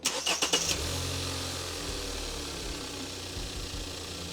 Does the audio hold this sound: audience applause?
no